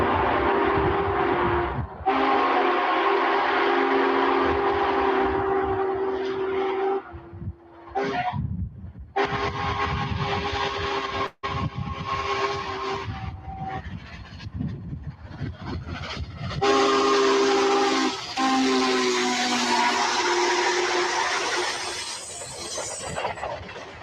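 Union Pacific 844 steam locomotive hauls a long excursion train east through western Missouri in 1997, its whistle sounding in long, loud, sustained blasts with brief breaks over the steady rumble of the passing train.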